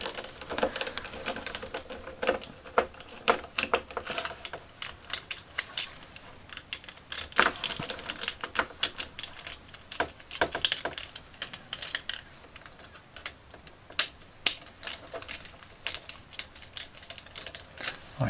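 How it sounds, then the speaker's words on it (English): Three small screws come out of the clear plastic pelvis section of a Neo Henshin Cyborg toy. Dense, close ticking and scraping clicks from the driver turning run in irregular bursts for many seconds, with no voices. "so I'm just going to undo those 3 screws"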